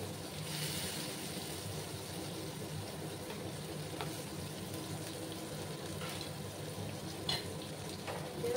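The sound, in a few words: chopped onions frying in oil with green chillies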